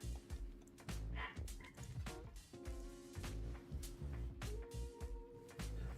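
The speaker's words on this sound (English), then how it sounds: "Frickin' dog in the background." A dog barks and yips in the background against a steady hum, with short sharp bursts in an irregular rhythm.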